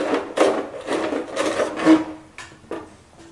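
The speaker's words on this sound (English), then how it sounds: "finish these holes off with a body reamer" Repeated rasping, scraping strokes of a body reamer widening holes in a plastic Tamiya Clodbuster body, close up, in several short bursts with brief pauses between.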